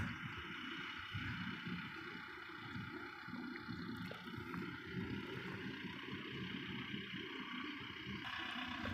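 Combine harvester working a wet, muddy rice field during harvest, a steady loud engine drone with rumbling low end and wind buffeting, continuous and close throughout with no talk.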